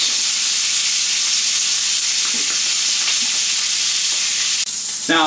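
Bacon sizzles and crackles steadily in a pan while a stout pot roast is being prepared, a dense continuous hiss with a brief clink near the end.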